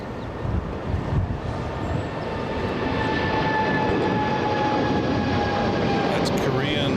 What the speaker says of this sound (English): We have the Korean 777 lifting off right now.